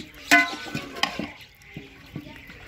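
Browned meat for a masala curry being stirred in a hot pan with a spoon, giving a few close scraping clinks and soft sizzling between strokes.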